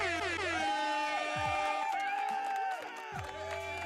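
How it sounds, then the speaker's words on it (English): Celebratory applause effect for a 250th consecutive live stream episode: blaring air horns layered over a cheering, clapping crowd, loud and continuous for a few seconds before fading slightly. "So let's give an applause for that."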